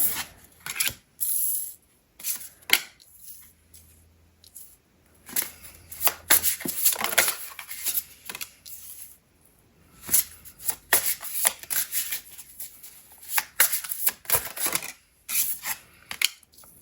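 Tarot cards are shuffled in bursts of crisp riffling and rubbing, close up, with brief quiet pauses between rounds.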